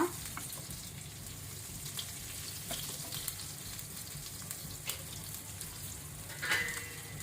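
King fish coated in rava frying in a pan on a medium flame, a steady soft sizzle throughout with a few faint clicks and one brief clatter near the end.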